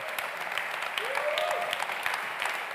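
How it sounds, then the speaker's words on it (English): A warm round of applause at a European Social Economy Awards gala as the award presenter, a Basque Government vice minister, comes on stage; steady hall clapping throughout, with a faint sliding tone briefly rising above it. "I'd please hope that you will give a warm round of applause for the person who will be giving out the award"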